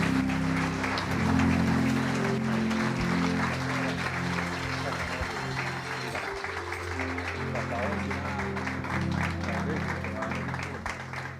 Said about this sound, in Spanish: Aplauda esa palabra que vamos a recibir.